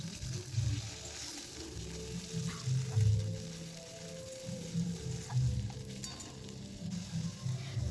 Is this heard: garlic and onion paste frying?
yes